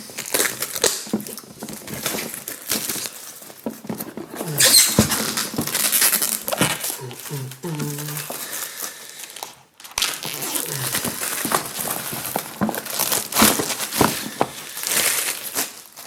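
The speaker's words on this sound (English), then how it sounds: "Let's get this shrink off so I can actually speak without this weird noise going on." Plastic shrink wrap crinkles and crackles up close as it is torn and peeled off a board game box in bursts, with a brief pause midway.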